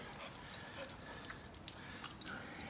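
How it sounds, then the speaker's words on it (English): A stray dog wanders into a car repair shop, its collar tags jingling lightly with soft canine whimpers and small noises over steady shop background, with a voice faintly present. "Just had a random dog walk into the shop."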